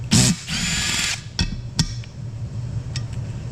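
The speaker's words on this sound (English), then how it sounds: "I'm going to use the drill press this time" A drill press bores into an aluminum motorcycle cylinder head, a steady close whine with a brief sharp start and a few knocks and clicks as the bit bites, then a low motor hum.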